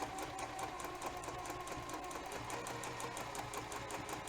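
A sewing machine running steadily while free-motion quilting a T-shirt quilt, a continuous fast mechanical stitching rhythm with even pulsing, close and moderately loud, with no talking.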